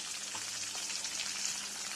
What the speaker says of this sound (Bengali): কিশমিস দিয়ে দেব আর কাজু বাদাম দিয়ে দেব সবগুলোকে এবারে ভালোভাবে ভেজে নেব